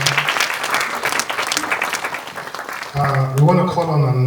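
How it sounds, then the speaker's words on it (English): An awards-ceremony audience claps loudly and continuously, a dense burst of hands that carries on as a voice begins speaking over it partway through. "Another big kind of applause."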